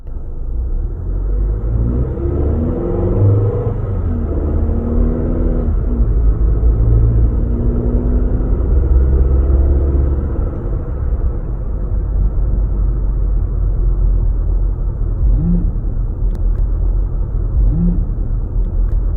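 A 2019–2020 Toyota RAV4 with an abnormal buzzing and groaning fault, heard as a loud, continuous low engine rumble and droning groan with a wavering tone that shifts over about twenty seconds.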